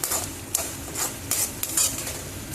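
Onions with asafoetida sautéed in a pan, a steady close sizzle with quick scraping stirs of a spatula against the metal every half second or so, no voices.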